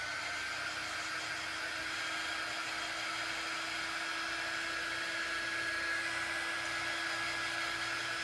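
A hair dryer runs continuously to dry Mod Podge, giving a steady, close whirring blow with a constant high whine and no pauses or talk.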